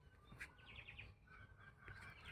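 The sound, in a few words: zebra doves calling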